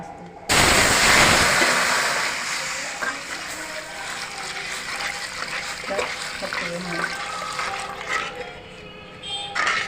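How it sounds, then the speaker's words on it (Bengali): Milk for misti doi pours into a bowl with a sudden loud rushing splash at the start, then settles into softer trickling and faint clinks, with a voice speaking under it. "এটা হয়ে গেছে, এবার এর মধ্যে দুধটা দিয়ে দেবেন।"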